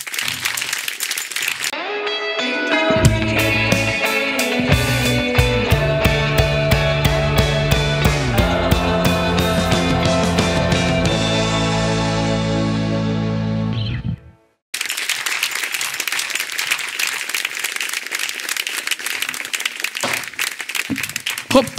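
Studio audience applause at the opening of an Italian comedy talk show, starting faintly and swelling into a sustained wash of clapping with loud intro music over much of it, the music then cutting off while clapping continues.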